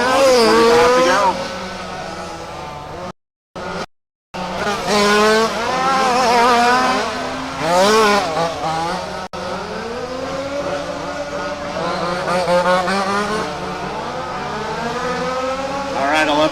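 Touring race cars lapping a track during a RAMS WCC event at Warm Springs, engines revving and shifting with rising and falling whines, passing near and far with tire squeal, while an announcer talks over the racing throughout.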